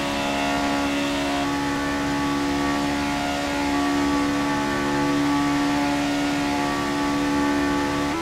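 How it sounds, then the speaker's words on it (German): A 2003 Williams Formula 1 car in the F1 2018 racing game, its high-revving engine a loud, sustained tonal whine with stacked harmonics that holds steady and shifts pitch slightly, alone without talk. "vor allem, wie der 2003er Williams klingt"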